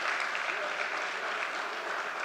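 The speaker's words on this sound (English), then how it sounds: "I give him and the government a round of applause for that." Steady, dense audience applause at a PNM post-budget political public meeting in Belmont, a continuous wash of many clapping hands holding even from start to finish.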